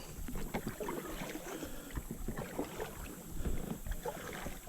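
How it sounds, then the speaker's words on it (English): A paddle works a boat down a shallow creek, with repeated splashes and dull knocks against the water, close and irregular, under light wind noise. "Can't get your entire paddle in, but enough to get momentum."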